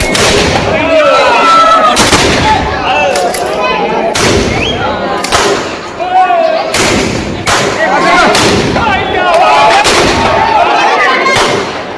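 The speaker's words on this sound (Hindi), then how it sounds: "जहां रावण को राइफल और डबल बैरल गोलियों से भूना गया" Rifle and double-barrel shotgun fire aimed at a Ravan effigy during a Dussehra celebration in Pratapgarh, Rajasthan: a rapid, irregular series of loud, sharp outdoor shots over a steady background of crowd noise and voices.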